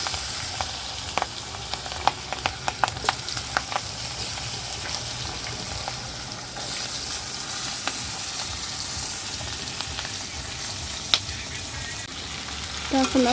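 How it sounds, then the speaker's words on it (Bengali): Potatoes fry in a pan with a continuous close sizzle, dotted with sharp crackles and pops, that holds steady throughout. "এবার আলুগুলো ভাজবো।"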